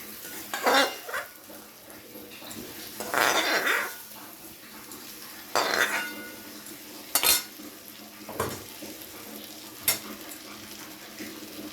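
Fried potatoes and pointed gourd tumbled into hot spice masala in a pan for potol chingri, with a few bursts of stirring and scraping, light sizzle and occasional sharp utensil clinks.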